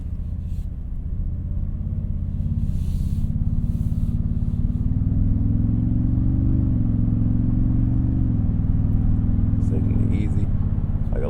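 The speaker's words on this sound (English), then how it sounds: "I love the engine sound that this thing makes" A 2024 Toyota Tundra TRD Pro engine hums steadily while driving, a continuous low drone that rises slightly in pitch mid-way, with faint road noise and cabin rumble throughout.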